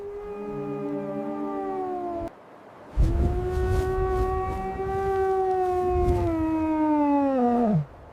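A wolf gives two long, sustained howls, a shorter falling one and then a longer one that drops sharply at the end, loud and clear against a rough noisy background.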